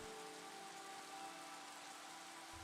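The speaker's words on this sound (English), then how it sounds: "there is only the rain." Steady rain from the video game Against the Storm hisses as an even, dense patter, faint and continuous, with a low hum beneath and no voices.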